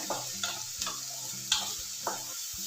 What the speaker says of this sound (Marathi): त्यात बारीक चिरलेला कांदा कालसर रंगावर तेलामध्ये चांगला परतून घेऊया